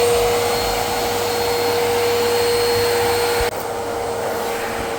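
A Miele vacuum cleaner runs with strong suction, a loud, steady, close whine and rushing airflow that continue without a break, dropping slightly in level partway through.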